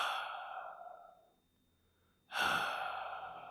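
A voice imitates slow breathing as if from someone lying down, a long breathy exhale fading out, a pause of near silence, then a sharp loud inhale-like rush that lingers.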